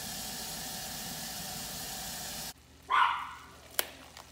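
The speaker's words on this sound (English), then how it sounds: "Look at these dogs, think they're getting something." A dog gives a short, fairly close bark followed by a faint sharp sound, after a steady hissing noise like a hot cooking pan suddenly cuts off.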